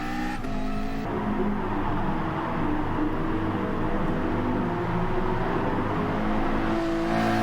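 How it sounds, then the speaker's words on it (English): Race car engines in a Gran Turismo Sport daily online race, steady loud engine drone with revving shifts as cars chase a Porsche, continuous throughout with no talk. "And we chase down the Portuguese Porsche in front, Bruno."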